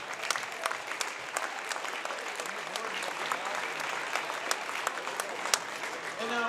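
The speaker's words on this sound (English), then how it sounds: "Please stand and show your appreciation by giving a big round of applause for these outstanding officials." A gym crowd at a boys varsity basketball game applauds the officials, with steady clapping and scattered loud claps throughout, fairly dense and continuous.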